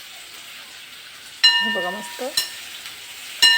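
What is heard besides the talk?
beans frying in hot spiced oil tempering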